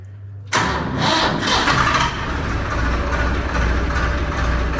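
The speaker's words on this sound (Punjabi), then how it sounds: "ਲੋ ਜੀ ਆਉਣਾ ਟਰੈਕਟਰ ਹੋ ਗਿਆ ਸਟਾਰਟ" A Swaraj 855 tractor engine cranks and fires after a brief quiet moment, then settles into a loud, steady, close-up diesel idle with a low rumble.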